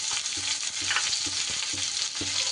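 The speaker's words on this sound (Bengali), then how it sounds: "পেঁয়াজটাকে এবার ভালো করে ভেজে নিতে হবে" Chopped onion sizzles in hot oil with cumin seeds, a bright continuous frying hiss broken by a few soft stirring scrapes, close and steady with no talking.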